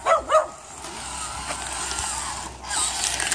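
A large dog barks twice in quick succession at the start, close and fairly loud, followed by faint background noise with little further barking.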